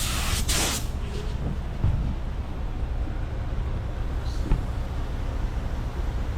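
DIY spray gun atomizing yellow paint in a steady close hiss that runs unbroken, with faint background rumble beneath.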